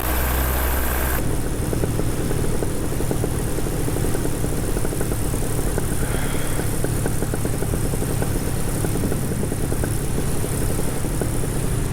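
A paramotor engine running steadily at a constant loud drone, close to the microphone and buzzing, with wind roar and no talk.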